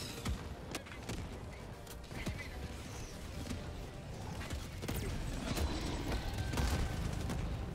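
Mortar strikes rain down in the video game Helldivers 2, a run of sharp, muffled impacts and bursts of gunfire scattered over a steady wash of battle noise, fairly faint throughout, with no talking.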